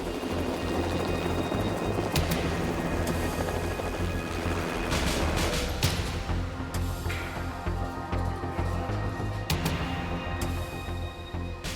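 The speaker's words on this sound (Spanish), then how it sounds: "De inmediato fue enviado un helicóptero médico." A medical helicopter sent to a grain elevator collapse rescue drones steadily with a continuous rotor roar, loud and close, with sharp cracks and thumps breaking through the noise.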